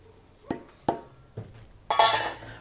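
Boiled tangerine peels are drained in a kitchen, with a few sharp clinks of the pot and then a close, rushing pour of water that runs for under a second.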